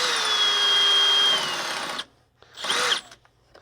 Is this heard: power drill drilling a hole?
yes